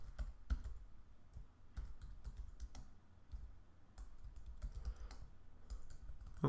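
Quick, irregular clicks of a computer keyboard as a title is typed, close and fairly quiet with brief pauses between bursts of keystrokes.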